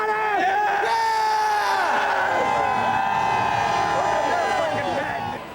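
Loud crowd of New England Patriots fans at the 1997 Super Bowl, yelling, whooping and screaming, the dense roar sustained throughout with individual shouts rising above it.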